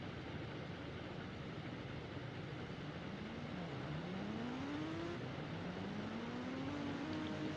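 Engine of a Bajaj Pulsar motorcycle in an Indian bikes video game, a steady synthetic drone with the pitch sweeping up as the bike revs and accelerates, alone with no talk.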